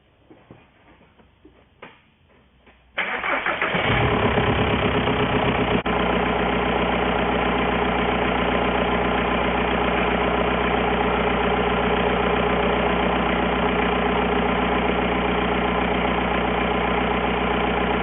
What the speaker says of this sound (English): Let me start the car and see if it changed anything.